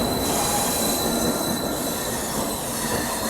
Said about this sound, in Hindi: यहाँ ट्रेन पहुँच रही है